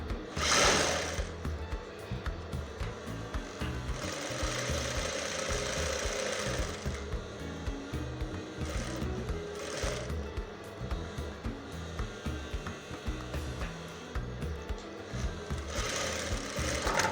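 A home sewing machine stitches a simple skirt seam, its steady motor chatter running continuously with brief pauses and restarts, fairly close and unaccompanied by speech.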